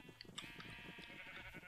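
Sheep bleating in the Minecraft game, several short calls overlapping in a steady stream under a dense, continuous bed of game sound from a large flock, fairly faint throughout.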